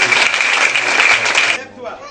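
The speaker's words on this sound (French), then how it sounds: "Est-ce qu'on peut acclamer très fort pour le Seigneur?" A church congregation applauds loudly in praise at a healing service, a dense burst of clapping with voices mixed in that stops abruptly after about a second and a half.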